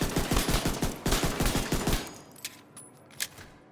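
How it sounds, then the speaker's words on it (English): A pistol fires rapid body shots in the video game Division 2, a fast series of sharp, loud bangs for about two seconds, followed by a couple of fainter isolated shots and game sounds. "I'm going to demonstrate the pistol, make sure I got it fully loaded."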